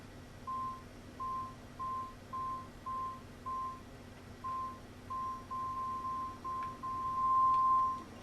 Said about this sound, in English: As you can hear there's the beep in the background